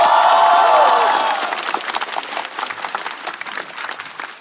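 A stand-up comedy show audience applauds and cheers as a rapper performer is welcomed, starting with loud whoops and cheering that gives way to steady clapping.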